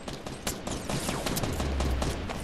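Assault rifle fire in a video game crackles in a fast, continuous burst of shots at moderate distance, a steady rattling spray with no talk over it.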